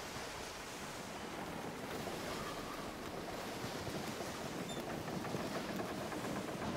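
Wind and waves at sea in the video game Skull and Bones, a steady broadband rush of surf and blowing wind that stays constant, with no voices.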